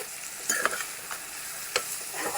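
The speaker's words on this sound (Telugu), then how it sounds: "బాగా కలిసేటట్టుగా అన్నీ చక్కగా కలుపుకోవాలి." Guta punugulu batter being stirred in a bowl, producing soft wet scraping strokes with a couple of sharper clinks of the spoon, close and quiet.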